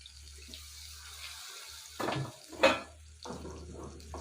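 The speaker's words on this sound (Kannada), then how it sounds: "ನಾನು ಇನ್ನೊಂದು ಚೂರು ನೀರು ಹಾಕೊತಾ ಇದ್ದೀನಿ" Water poured into masala okra (bhindi) frying in a pan gives a few short splashing, running bursts over a low steady hum, with one sharper splash in the middle.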